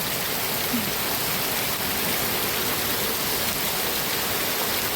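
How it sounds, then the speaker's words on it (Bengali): Early-morning rain pours down in a dense, unbroken hiss, steady and even in level from start to finish with no voices. "দেখছেন সাত সকালবেলায় কি বৃষ্টি না হচ্ছে"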